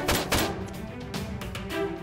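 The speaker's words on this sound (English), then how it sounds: "SWAT Finn heard the gunshot and immediately pointed the gun to control Dr. Lee." Sharp, loud bangs in quick succession from a staged gunfight in a Nerf war game, followed by a dense, rumbling noisy background.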